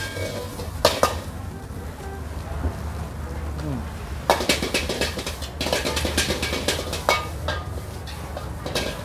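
Fried rice stir-fried in a wok at a busy Thai street-food stall over high flames, with metal scraping and pans clanging in irregular bursts over a steady background roar.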